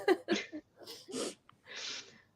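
A sneeze bursts out among a few sharp breathy sounds, close and fairly quiet, followed by a longer breathy exhale with no talking.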